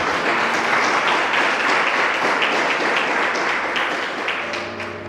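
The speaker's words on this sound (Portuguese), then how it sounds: "Vamos aplaudir esse Deus maravilhoso." A church congregation applauds together in worship, a dense, steady wash of many hands clapping that holds strong throughout and eases slightly near the end as a sustained musical tone emerges beneath it.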